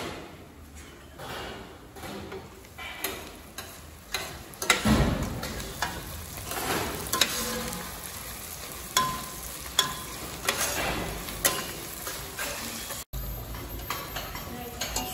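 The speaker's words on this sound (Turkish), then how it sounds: "Şimdi kapağımızı açıp soğanları karamelize etmeye devam ediyoruz." Onions caramelizing in an open pot for French onion soup sizzle steadily while a spoon scrapes and stirs them, with occasional clanks of the utensil against the pot, close and fairly loud, faint talk now and then.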